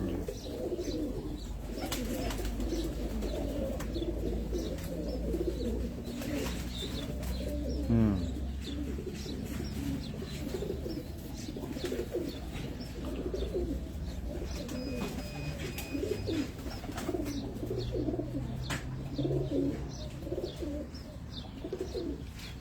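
Pigeons coo steadily in soft, rolling phrases on a rooftop in Abu Dhabi, several birds overlapping continuously at moderate distance, with faint chirps and light background noise.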